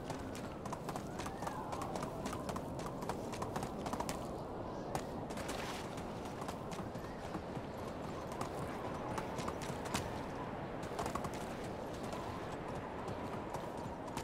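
Horse hooves clip-clopping steadily in the medieval survival game Medieval Dynasty, a continuous fast rhythmic trot with a few sharper thuds, close and fairly loud.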